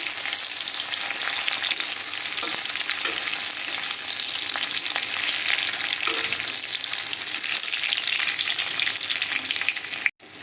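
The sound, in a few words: frying tomato, ginger, garlic and chilli in a pan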